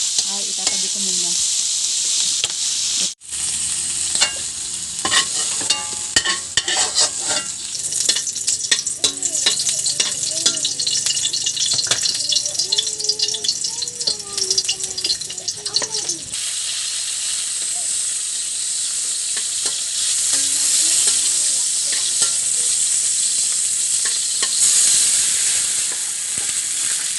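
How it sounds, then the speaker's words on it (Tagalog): Sea shells sauté in a pan with garlic and ginger, a loud continuous sizzle and hiss with frequent scraping stirs and clacking shells throughout, no talk. "At matapos ko po gisahin yung shell ay itatabi ko muna."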